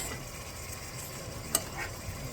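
Beans are stirred in a greasy pan with a soft sizzle, and one sharp utensil clink comes midway. The clip is brief and has no voices.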